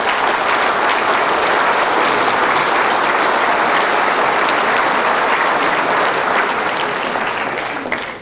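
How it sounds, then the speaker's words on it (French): Sustained audience applause fills a hall at a New Year's greetings ceremony, loud and dense throughout, fading slightly at the end. "Les applaudissements aussi."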